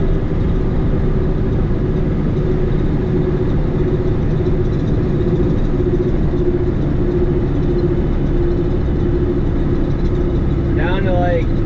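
CAT C11 diesel in a heavy truck hauling 15 tons up a hill, a steady loud low drone under load throughout, with a brief higher whine near the end.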